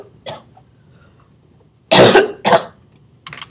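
Several coughs in a row: a faint one early, then two loud harsh coughs close together, and a last short cough near the end, with quiet between.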